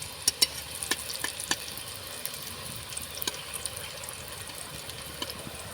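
Flower pitha fries in hot oil as oil is splashed over it, giving a steady close bubbling hiss with sharp little spits and crackles, no talking.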